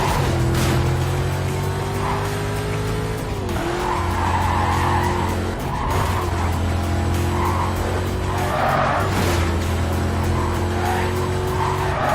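Tires screech and skid over a roaring race-car engine in a Need For Speed Carbon career race, the loud squeals swelling and fading in repeated waves over the continuous, close engine drone, with no talking.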